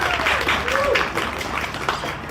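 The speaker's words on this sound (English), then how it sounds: "Let's give them all a big round of applause." Applause for a group of young 4-H Junior Appalachian musicians at an outdoor community park jam session, a steady wash of clapping over about two seconds with a faint voice underneath.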